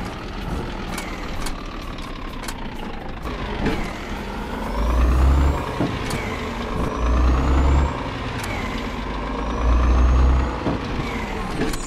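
Heavy Scania truck engine in a video game rumbles steadily with low bursts of throttle, hissing air-brake releases and sharp clicks, synthetic and game-like in character.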